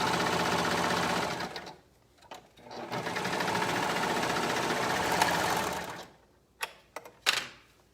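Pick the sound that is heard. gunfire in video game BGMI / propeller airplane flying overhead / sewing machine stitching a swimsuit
sewing machine stitching a swimsuit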